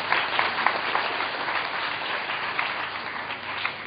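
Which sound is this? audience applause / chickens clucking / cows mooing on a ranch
audience applause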